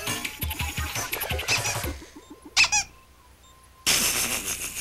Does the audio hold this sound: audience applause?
no